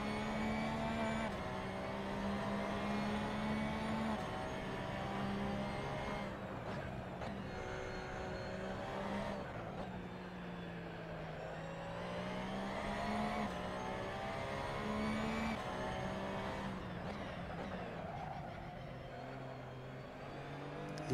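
Race car in Assetto Corsa on PS4 accelerating out of a corner at Imola, engine note sustained and loud with rising revs and gear changes, continuous over twenty seconds with no talking.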